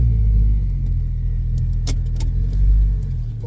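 A Nissan GU Patrol with a TB45 turbo engine shifts into reverse, heard from inside as a steady, loud, low engine rumble with a few faint clicks and rattles.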